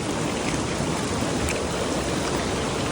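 A small forest stream in Kerala, India flows in a constant, close rush of bubbling water, steady and unbroken, with no voices over it.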